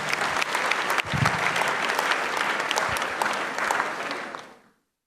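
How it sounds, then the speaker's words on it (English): Warm round of applause from a seminar audience welcoming the manager of Ghana's Securities and Exchange Commission, dense steady clapping for about four seconds before fading out quickly. "Let's welcome David Butcher, who is manager of SEC, with a round of applause."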